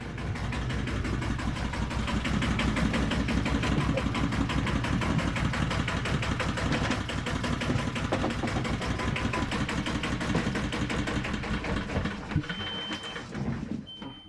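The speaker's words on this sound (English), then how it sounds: "Let's turn the engines on." A sailboat's engines run at a steady idle with a dense, continuous mechanical drone and rapid rhythmic chugging that holds evenly before slightly easing toward the end.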